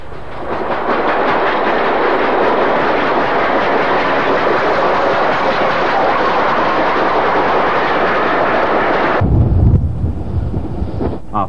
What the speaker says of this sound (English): This is a BR standard 282 locomotive and a 280 wartime built austerity.